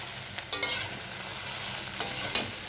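A spatula stirs vegetable-free egg chow mein in a frying pan. A soft, continuous sizzle is broken by a few sharp scraping strokes against the pan, heard up close with no talking.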